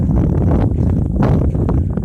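Steady wind buffeting a microphone outdoors in an Ohio metro park cemetery, a constant low roar with gusty swells and rustling throughout.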